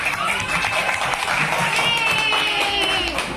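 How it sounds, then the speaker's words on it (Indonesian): Primary-school pupils in a combined grade two and three classroom clapping their hands together, a steady patter of many hands under overlapping children's voices and chatter, moderately loud throughout. "Tepuk tangan."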